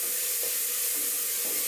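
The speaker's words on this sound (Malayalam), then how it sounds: "ഇതിലേക്ക് ഒരു വലിയ സവാള കനം കുറച്ച് അരിഞ്ഞത് ചേർത്ത് അതും കൂടെ ചേർത്ത് വഴറ്റുക" Thinly sliced large onion sautéing in a hot pan, giving a steady, close sizzling hiss with a few faint stirring touches throughout and no voices.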